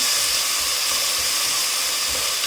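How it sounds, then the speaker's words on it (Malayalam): Ginger garlic paste frying in a pan for a chicken angara curry, giving a steady, close sizzling hiss that stays even and continuous with no talk over it. "ഇഞ്ചി വെളുത്തുള്ളി പേസ്റ്റ് ഇതുപോലെ ഫ്രൈ ആക്കിയെടുക്കാം"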